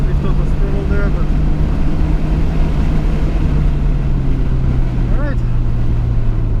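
A 1992 Nissan Skyline R32 GT-R on the Suzuka Twin Circuit, engine noise loud and steady as the driver lifts off the throttle after a lap, with a constant low drone and wind throughout.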